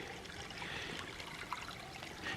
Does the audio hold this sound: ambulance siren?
no